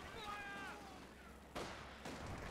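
Gunfire and artillery thumps ring out in the Company of Heroes 2 strategy game during a 4v4 battle, with distant booms arriving in bursts. Faint game voices and noise sit underneath the fire.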